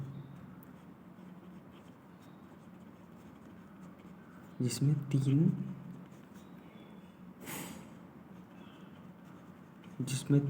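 Pen or marker writing during a lecture on AC and DC motors: faint scratching strokes under a quiet room hiss, with a few louder scraping bursts in the middle and near the end.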